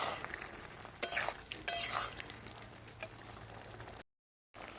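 Kohlrabi curry with chopped tomato and ground roasted coriander is stirred in a pan over a clay stove: faint sizzling with a few sharper scrapes of the spoon, then a short silence.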